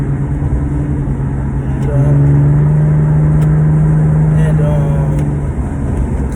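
Car interior while driving, a steady low engine hum and road drone with a sustained tonal whine, continuous and fairly loud throughout.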